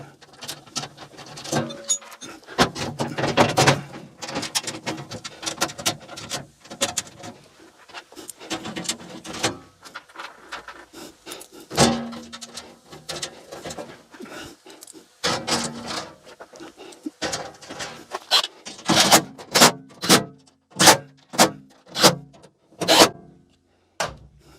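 A side panel is refitted onto a Sip 01332 table saw, giving scattered scraping, rubbing and knocking sounds with short sharp taps that grow more regular toward the end.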